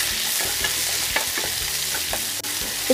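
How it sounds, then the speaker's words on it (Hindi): Chopped onions sauté with cloves and cumin in a hot pan, giving a loud, continuous close-up sizzle with soft spoon scrapes and stirring knocks scattered through it, and no talk. "अब हम इसमें अपनी ये प्याज डालेंगे।"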